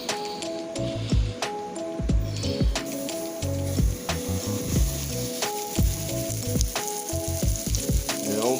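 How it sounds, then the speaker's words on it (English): Seasoned, floured liver hits hot grease in a skillet and fries with a loud, steady sizzle, broken by clanks and scrapes of utensils throughout. "Got my grease hot right here, and we're finna go throw this liver down."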